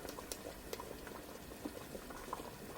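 Beef and seaweed soup bubbles in a pot at a gentle boil, a quiet continuous burble with small popping bubbles and the odd faint tap, heard alone without talk.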